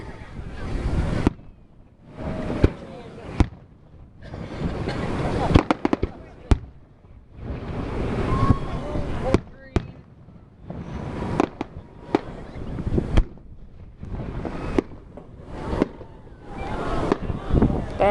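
Fourth of July fireworks burst repeatedly at a distance, a run of irregular booms and crackles over steady wind noise, with people talking and reacting between the blasts.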